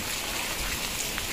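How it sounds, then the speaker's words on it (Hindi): Steady rain falling in a village, a dense, continuous hiss of drops on surfaces, fairly close and uniform throughout the short stretch with no voices. "आज सुबह सुबह हमारे गांव में बारिश हो रही है"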